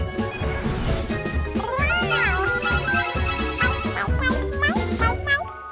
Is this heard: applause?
no